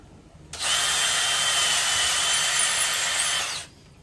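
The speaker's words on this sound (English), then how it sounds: "Now I need to widen the holes in the front of this oak," A power drill widens holes in oak wood, running as one steady, loud, continuous whir for about three seconds, starting and stopping abruptly with quiet room noise on either side.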